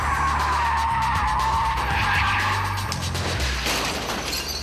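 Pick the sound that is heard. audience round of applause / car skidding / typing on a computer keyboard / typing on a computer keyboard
car skidding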